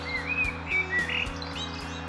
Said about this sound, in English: We enjoyed some time with the blackbirds singing